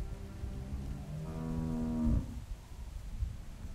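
A cow in The Walking Dead video game gives a single long, close, loud moo that rises in strength and cuts off, over faint ambient background.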